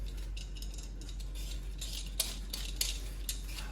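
Maris Piper potatoes being peeled by hand in a kitchen, a faint, close run of short scraping strokes repeating quickly over low background hum.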